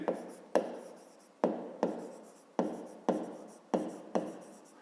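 A pen writing math on paper at close range, a series of about seven sharp tapping strokes, each followed by a short scratchy trailing scrawl, at an uneven rhythm.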